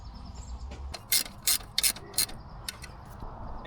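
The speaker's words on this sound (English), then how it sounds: "Tighten this one, and that'll be perfect" Ratchet wrench tightening a bolt on a 1984 AE86 Corolla coupe, a handful of sharp metallic clicking bursts in quick succession, close and fairly quiet against a faint background.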